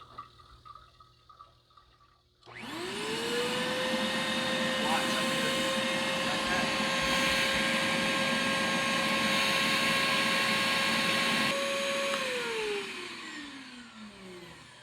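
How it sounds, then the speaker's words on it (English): A vacuum pump used to pull maple syrup through a filter starts with a sudden rising whine, then holds a loud, steady drone over liquid rushing before winding down as its pitch falls. "we're going to turn the vacuum on now. It's going to get a little loud"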